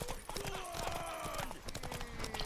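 Horse hooves clip-clop in a steady rhythm in the video game The Witcher 3, heard moderately close amid game sounds and faint voices.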